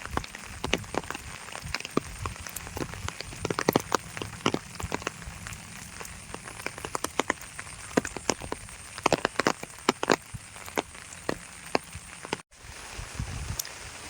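Rain falls on an open village field where cattle graze, with a continuous soft patter broken by many scattered, crisp drop ticks close by, steady for the whole stretch without any talking.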